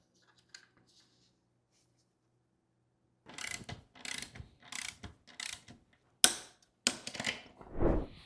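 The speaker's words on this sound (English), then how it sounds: "Now I just need to tension the chain and then tighten the axle and it's done." Mechanical clicks and ratcheting as an e-bike chain is tensioned and the rear axle tightened, a quiet start followed by a series of close, bursty ratchet and tool bursts with sharp metallic snaps near the end.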